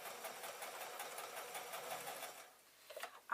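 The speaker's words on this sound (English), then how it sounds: "I'm just going to fold it up and sew it to the seam" A sewing machine runs steadily while stitching the hem of a small tote bag to its seam, a continuous close mechanical whir that slows and stops near the end.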